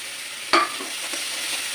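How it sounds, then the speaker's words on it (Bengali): Ginger and onion paste fry in a pan, making a soft, even sizzle with one sharp clink of a utensil partway through. "একটু নাড়াচাড়া করে একটু ভেজে নেবো"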